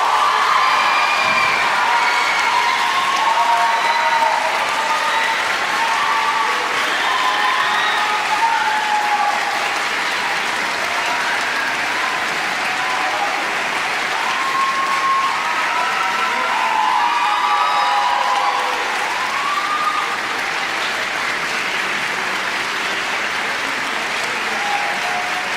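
Sustained, loud applause from a large audience with scattered cheers and whoops, greeting the winner of the National Youth Music Competition 2025 and the six finalists, continuous across the whole stretch.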